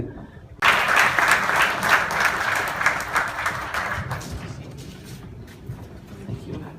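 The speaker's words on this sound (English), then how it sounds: "How about another round of applause for Hasmukh Kaka?" An audience at a 25th wedding anniversary celebration bursts into loud applause that starts suddenly, holds for a few seconds and then fades into scattered claps and murmuring.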